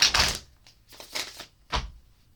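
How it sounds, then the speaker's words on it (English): Tarot cards are shuffled in several quick riffling bursts, crisp and close, separated by brief pauses. "let's go ahead and shuffle up these cards and cut them."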